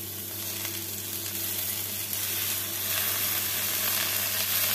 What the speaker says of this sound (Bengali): ভালো করে আমি মশলাটাকে ভেজে নেব। দিয়ে দেব কুচানো লাউ শাকটা।